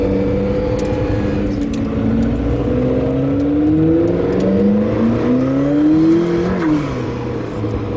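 A McLaren P1 supercar on a track-day parade lap, its engine droning steadily and loud from inside the cabin, with rising and falling pitch as it accelerates and eases off.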